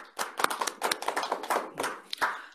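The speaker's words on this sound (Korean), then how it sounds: "박수 부탁합니다." Seminar audience clapping to welcome a discussant, a small group of hands clapping in a brisk, uneven patter that stays fairly close and moderate in loudness throughout.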